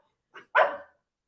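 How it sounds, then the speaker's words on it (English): A dog barks once, a brief yip and then a sharp close bark, clear and alone. "he's barking at her because she still has her treat and he doesn't"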